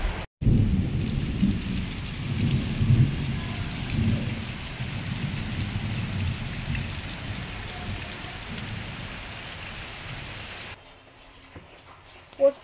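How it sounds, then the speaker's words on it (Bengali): Heavy rain pours steadily outdoors with low thunder rumbling through it, a dense continuous hiss that cuts off abruptly near the end. "ভালোই বৃষ্টি হচ্ছে একবারে"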